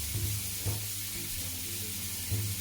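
Steak sizzles loudly and steadily in a pan of butter and oil while it is basted, a close, continuous frying hiss with soft stirring scrapes.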